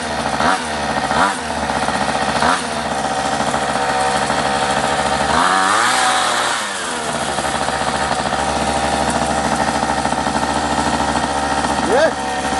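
A rescued, long-abandoned mini bike's small engine runs with the choke fully off, idling with a steady rough putter, briefly revving up and settling back, close and loud throughout.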